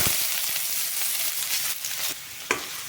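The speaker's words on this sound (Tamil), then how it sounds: "எண்ணெய் பார்த்தீங்கன்னா சூடாயிடுச்சு கொஞ்சமாக கடுகு போட்டுக்கிறேன் வெங்காயம் போட்டுக்கலாம்" Mustard seeds and onions fry in hot oil for a raw plantain dish, giving a steady close sizzle with a few soft pops and a sharper crackle near the end, with no voices.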